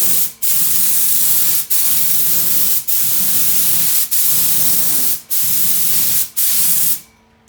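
Paint spray gun spraying Dixie Belle paint outdoors, a loud steady hiss in six sustained passes, each cut by a short pause before the trigger is pulled again, ending in a fade.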